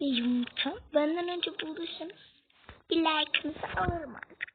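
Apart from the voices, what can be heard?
No distinct noise like a dog, phone or traffic.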